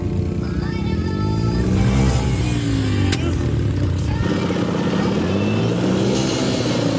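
Motorcycle engine at the Croom riding track, loud and close throughout, with revs rising and falling as a rider works through the gears.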